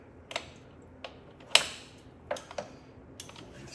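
A socket wrench working a T50 and 16mm bolt on a Porsche Cayenne Turbo 958, a handful of sharp metallic ticks and clicks spaced irregularly, close and quiet with no speech.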